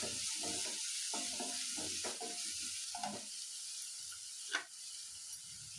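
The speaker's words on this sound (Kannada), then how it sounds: "ಅಕ್ಕಿ ಥರ ನೀಟಾಗಿ ಫ್ರೈ ಮಾಡ್ಕೋಬೇಕು." Chopped garlic and green chillies sizzle steadily in hot oil in a pan, a close, continuous crackling hiss with a few faint stirring bumps.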